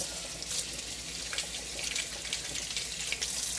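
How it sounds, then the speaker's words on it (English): Tap water running over strawberries being rinsed in a sink: a steady, close splashing rush with small fluctuations, and no voices. "Give them a quick rinse."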